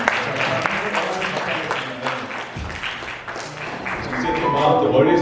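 A church youth congregation at a winter retreat evening service applauds the worship team, with crowded clapping mixed with voices and room chatter, the clapping swelling louder near the end.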